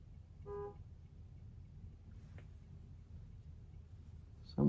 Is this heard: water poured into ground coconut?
no